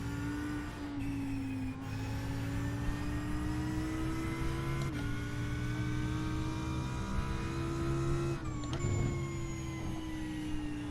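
Race car in the iRacing sim at Hockenheim, VRS class, producing a steady droning engine tone with a low rumble underneath, shifting pitch a few times with brief gear-change breaks, continuous and fairly loud throughout.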